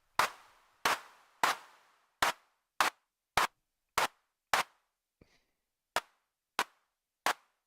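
A synthesized clap drum from Bitwig repeats about eleven times in a steady rhythm, each hit sharp and loud with a brief noisy tail. One beat drops out near the end, and nobody talks.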